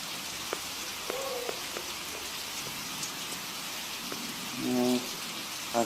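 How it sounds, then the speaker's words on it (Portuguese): Rain falls steadily at dusk on a rainy day, making a soft, even hiss with scattered drips and light patters. A brief tonal sound and a small bump rise near the end. "E eu vou aproveitar essa chuva pra mim, né?"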